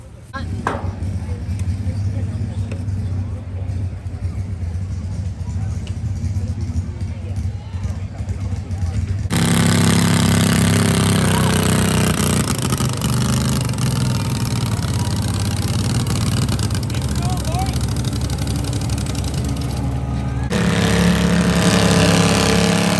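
Tractors running at a farm, a steady mid-pitched engine drone that grows louder and closer partway through and continues beneath people talking.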